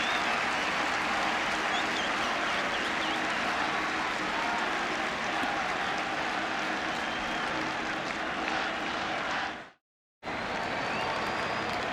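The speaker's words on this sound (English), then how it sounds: "the crowd standing and applauding" A baseball stadium crowd at a playoff game stands and applauds in a steady, dense roar of clapping and cheering that fills the whole stretch, broken by a brief dropout near the end before resuming.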